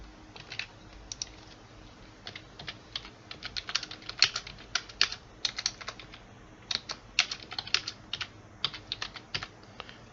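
Fingers tap a computer keyboard in irregular bursts of quick, crisp keystrokes, close and moderately loud, with short pauses between runs. No speech is heard.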